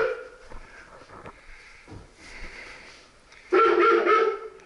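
A dog at an airsoft field gives a few sniffs and low vocal sounds, then a sharper burst of barking near the end, close and moderately loud with no talk over it.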